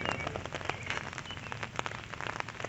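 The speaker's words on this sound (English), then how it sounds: "Unfortunately, it's kind of rainy right now." Rain falls at an outdoor swap meet, a steady patter of drops hitting surfaces with scattered sharper ticks, soft and continuous throughout with no voices.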